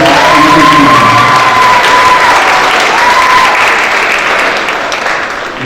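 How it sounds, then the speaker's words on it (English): A school athletic ceremony audience gives loud, sustained applause and cheering for a middle school cross country team, with whoops and a crowd roar that slowly tapers off near the end. "one more big round of applause for our middle school cross country team"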